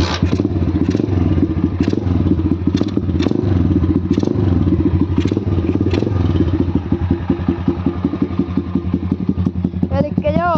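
Small engine idling after choke is closed and throttle pumped, a loud, close, steady chugging putter with rattly clatter throughout, and someone talking over it.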